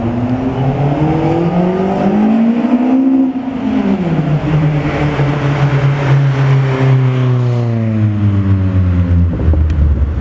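A Nissan SR20DE four-cylinder fitted with individual throttle bodies revs hard and close, its pitch climbing, dipping and swelling again in a loud, continuous engine roar with no talk.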